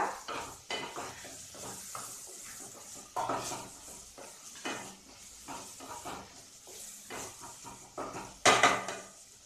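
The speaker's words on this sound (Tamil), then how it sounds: "அந்த எண்ணெயில் நல்லா வதக்கி வச்சுக்கோங்க" Masala being sautéed in oil for chana biryani, with repeated scraping and stirring of a spoon against the pan, clinks of utensils, and a soft sizzle underneath, ending in a sharper metallic scrape.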